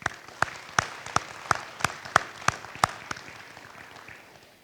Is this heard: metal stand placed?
no